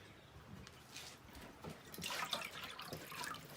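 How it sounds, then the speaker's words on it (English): Water is poured from a measuring cup into the container of a lemon squeezer in a kitchen, a faint, steady trickling splash heard close up without talk. "she measured out 2 cups of water and she just put them in the container of the lemon squeezer"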